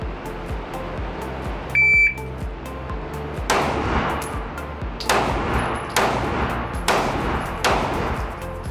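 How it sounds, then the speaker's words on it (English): A handgun fires five sharp, loud shots at three targets in an irregular rapid string, preceded by a short electronic beep and heard alone without talk. "I'll be putting 5 shots into 3 different targets to measure speed and accuracy"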